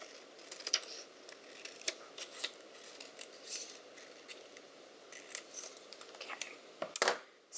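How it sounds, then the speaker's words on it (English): Scissors snip cut pieces apart for a Halloween skeleton sweatshirt made with a Cricut Maker: a quick string of soft, close, crisp clicks and cuts, ending with one louder snip. "And then I'm going to trim these apart as well."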